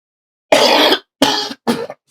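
Three harsh coughs close to the microphone, the first longest, followed by two shorter bursts in quick succession.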